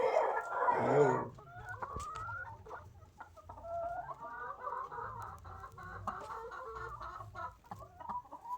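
Laying hens on a farm cluck in a close chorus, with a burst of louder squawking at the start followed by steady overlapping murmuring clucks.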